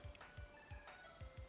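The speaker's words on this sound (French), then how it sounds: "encore 10 secondes et on va entendre la sonnerie, on va voir ce que c'est comme sonnerie." Alarm ringtone from a Nintendo Game Boy wristwatch: a quiet, repeating electronic beeping melody with a steady tone underneath, heard alone with no talking.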